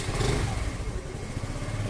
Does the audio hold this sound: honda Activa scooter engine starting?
yes